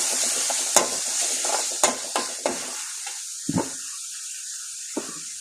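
Onions, green chillies and curry leaves sautéing in a pan: a continuous hiss of frying broken by sharp scrapes and clinks of a spoon against the metal, close and fairly loud, with no talking.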